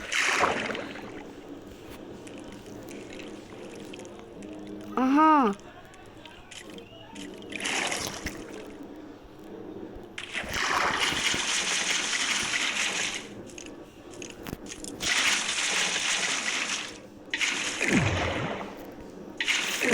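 Minecraft-style game water sounds arrive in several rushing, splashing bursts separated by quieter gaps, with a brief rising tone partway through.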